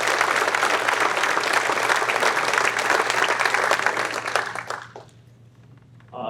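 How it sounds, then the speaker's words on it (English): An audience at an awards ceremony applauds with a sustained wash of dense clapping that fades out near the end, a low hum running underneath. "How about a round of applause for this selection committee?"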